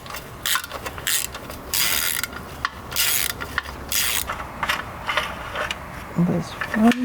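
A ratchet on extensions clicks in short bursts as it loosens an oil pan bolt on a BMW E93 328i, with rubbing and clanking of tools between the bursts.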